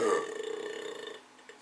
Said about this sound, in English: Burp. Excuse me.